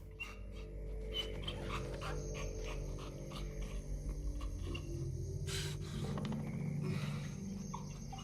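A dog pants steadily in the Silent Hill 2 ending, the quiet breathing set against a low droning game soundtrack with a few faint clicks, and no talking.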